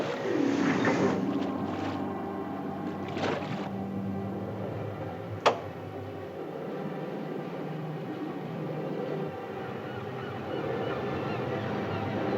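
A boat engine runs slowly in a steady low drone heading down a bay in a 1961 film scene, with a rougher burst at the start and one sharp knock midway.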